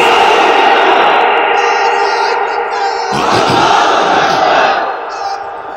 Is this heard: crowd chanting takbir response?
yes